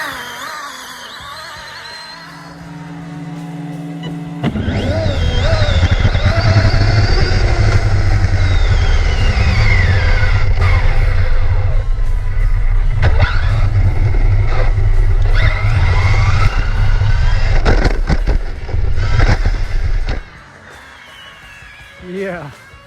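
A Skyline 1:7 scale RC car powered by 8S and a TP-4070 motor accelerates at half throttle, a loud sustained whine with rising pitch sweeps lasting about fifteen seconds before cutting off abruptly.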